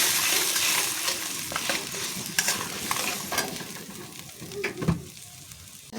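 Spice paste sautéed in oil in a pan and stirred continuously for a prawn and taro stolon dish, giving a steady close sizzle with scraping stirs and a few sharper clatters of the spoon.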